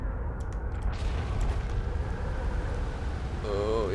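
Storm rain and rumbling thunder in the video game Outer Wilds, a steady dense wash of downpour with a low rolling rumble throughout and a brief rising tonal sweep near the end.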